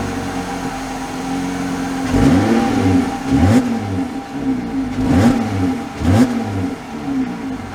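The engine of a 2022 Jeep Gladiator Mojave revs as the truck pulls away, with a loud rising drone that swells in three or four repeated surges.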